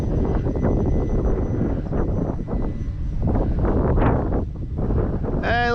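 Outdoor wind buffets the microphone at an RC flying field, a continuous low rumble with gusting bursts that rise and fall throughout, close and fairly loud.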